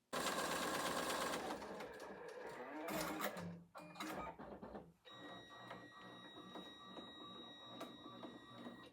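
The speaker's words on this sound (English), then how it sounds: "it stitches out a chain stitch in a circle pattern toward the outside of the shaker tag" An embroidery machine stitches a circular chain stitch around the outside of a shaker tag, giving a loud, busy mechanical whirring that breaks off briefly and then resumes at a softer level.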